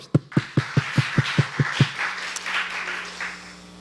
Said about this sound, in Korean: 화이팅 박수 한번.